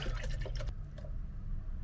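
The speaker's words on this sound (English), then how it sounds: "Pour some milk." Milk poured into a blender for a fruit smoothie, a short liquid splashing and gurgling run that stops after about 0.7 seconds, then low background hum.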